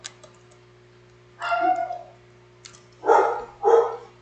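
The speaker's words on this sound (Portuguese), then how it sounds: "Os cachorros estão latindo aqui." A dog barks three times, short and somewhat distant, over a low steady hum.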